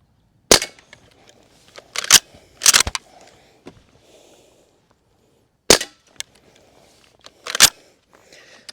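Barra 1866 CO2 cowboy rifle firing outdoors, six sharp, loud cracks spaced unevenly across the stretch, some in quick pairs, with quiet pauses and faint handling sounds between shots.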